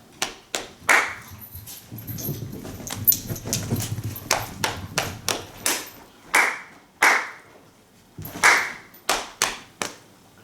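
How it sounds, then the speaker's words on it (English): Dogs racing and playing inside a house: a busy run of sharp thumps and clattering paw steps, some close and loud, with a stretch of low rumbling scuffle, all without talk. "You can probably hear my dogs running around like crazy people around my house"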